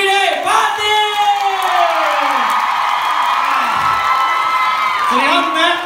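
An audience at a Thai stage show party roars with loud cheers, whoops and shouts that swell and hold throughout, a dense crowd noise close and energetic.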